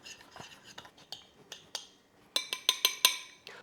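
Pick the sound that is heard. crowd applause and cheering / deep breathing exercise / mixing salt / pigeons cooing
mixing salt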